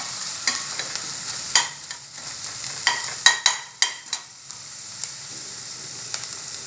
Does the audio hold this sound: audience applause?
no